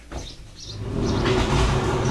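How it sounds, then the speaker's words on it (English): A door rolls or slides shut with a low rumbling scrape that builds and holds to the end, close by. "Let me get the door"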